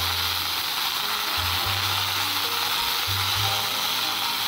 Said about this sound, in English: After putting the vegetable, saute this for